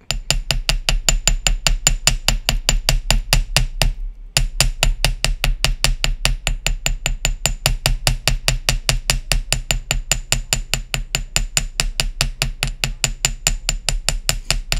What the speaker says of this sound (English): So let's see if I can fix that by just hammering it.